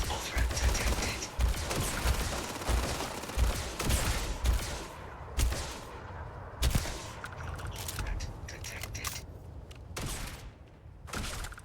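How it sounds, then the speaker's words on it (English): EM weapon fire in the Starfield video game crackles in rapid, uneven bursts of sharp cracks and thuds, loud and close, with gaps between volleys and occasional talk mixed in. "Oh, that was an EM weapon."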